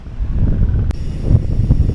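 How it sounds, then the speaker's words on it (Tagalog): Strong wind batters the microphone at an exposed spot in Dingalan, a loud unbroken low rumble with a brief sharp click partway through. "Grabe yung lakas ng hangin dito"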